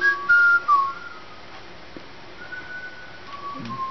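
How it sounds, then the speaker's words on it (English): A Resident Evil 6 character whistles a short, clear melodic phrase of a few notes, then a second softer phrase follows over quiet game ambience. "He whistles more sexy."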